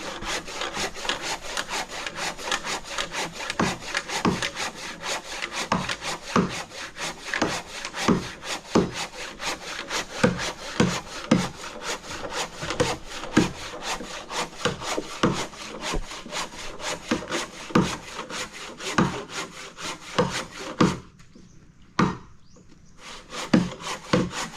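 Someone works a hand saw through wood with steady back-and-forth strokes, each rasping pass close and loud in an even rhythm; near the end the sawing briefly stops, then a couple more strokes follow.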